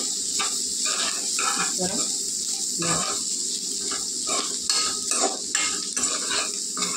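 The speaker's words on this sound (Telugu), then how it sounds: "అయితే ఒకసారి ఇలాగ కలుపుకుంటే వేగిపోద్ది." Tomatoes and chili powder stirred and fried in a pan for a bitter gourd curry, with a steady sizzle and intermittent scraping stir strokes throughout, loud and close.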